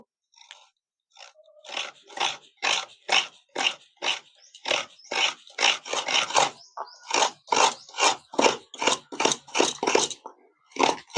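Fresh coconut is grated by hand for sabudana bhapa. About twenty brisk, crunchy scraping strokes come in a steady rhythm, close and clear, with no talk.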